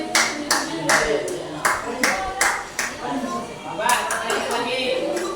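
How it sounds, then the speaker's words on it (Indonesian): Scattered applause from an audience, a series of sharp claps in uneven bursts rising and falling over a few seconds, with some voices mixed in underneath. "Kita berikan aplaus."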